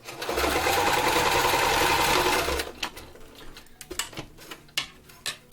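A sewing machine stitches a zigzag on stretchy sock fabric for doll clothes, whirring loud and continuously for about two and a half seconds. Its needle ticks and clicks scatter unevenly after it stops. No one speaks.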